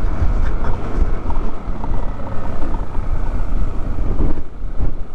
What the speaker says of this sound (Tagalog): Lakas nga lang ng hangin dito.